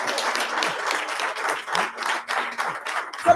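An audience in a hall at a media launch event claps thinly and rhythmically, a handful of distinct, spaced claps with a voice briefly audible over them.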